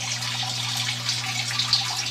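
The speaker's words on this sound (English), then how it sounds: "I'm lowering the water level. Right now it's at 800 liters." Water draining steadily out of an aquaponics fish tank through a hose, a continuous close rushing and trickling flow with a low steady hum underneath.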